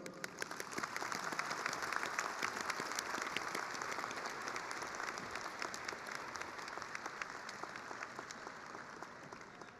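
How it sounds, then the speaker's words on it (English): Graduation crowd at a college commencement applauds at length, a continuous even roar of many hands with crisp individual claps standing out, heard from a distance and steady for about ten seconds. "Please join me in a round of applause for Marilyn."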